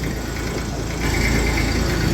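A small Massey 35 tractor engine runs with a steady, loud drone close by that rises slightly partway through. No one speaks.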